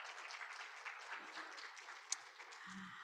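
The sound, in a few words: audience applause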